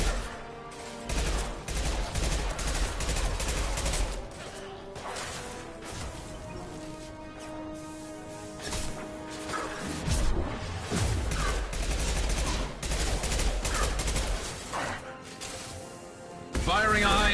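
Heavy gunfire from the Mass Effect Legendary Edition battle with a Krogan, dense impacts and bursts running nearly throughout, with game voices and music layered underneath.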